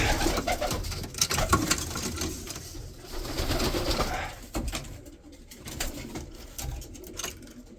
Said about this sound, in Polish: Ogólnie piękne gołąbki.